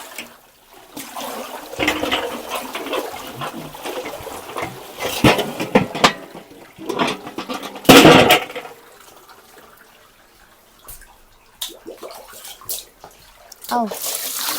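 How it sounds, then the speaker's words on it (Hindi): Tap water runs into a bucket for soaking clothes in a home in Arunachal, splashing and gurgling unevenly with loud bursts, while someone talks over it. "अब तो अच्छी तरीके से पानी आ रहा है"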